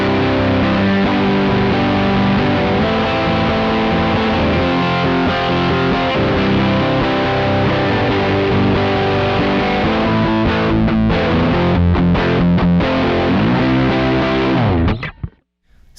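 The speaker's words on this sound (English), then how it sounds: "the Rat here, which is my final gain stage. It's full-on distortion for like rock songs" Electric guitar through a Rat distortion pedal set as a full-on gain stage on a worship pedalboard, thick sustained chords ringing loudly for most of the time, then a few choppy strums and an abrupt stop.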